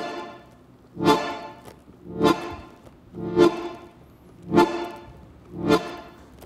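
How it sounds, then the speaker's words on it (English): A tango orchestra plays a marcado in 2 accompaniment: five strong, evenly spaced accented chords about one second apart, each swelling and fading, with no weaker beats between them and no voices. "Another type of rhythmic accompaniment is called the marcado in 2"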